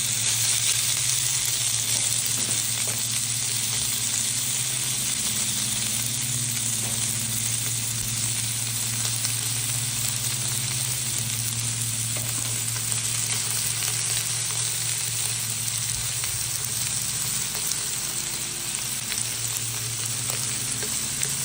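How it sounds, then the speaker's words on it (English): Burgers sear in a hot pan for cheeseburgers, a steady, dense sizzle running unbroken and close for the whole stretch, with a low hum beneath and no voices. "They're going to sear for about 1 to 2 minutes on each side."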